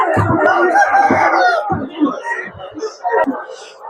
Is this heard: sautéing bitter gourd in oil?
no